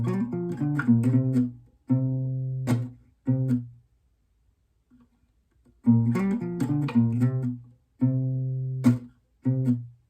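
Two looped guitar sections from a live arrangement play back to back: quick rhythmic strums and muted chops between ringing low E-string plucks, with a brief near-silent gap mid-way, close and clean with no talking.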